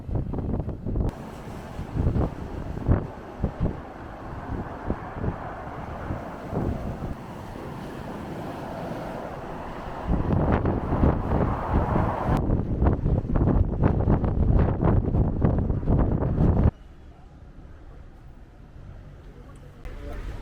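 Strong, gusty wind roars and buffets the microphone at a seaside pier in Dieppe, with surf and water noise underneath and sudden shifts in intensity.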